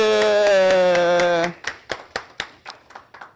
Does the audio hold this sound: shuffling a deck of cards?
no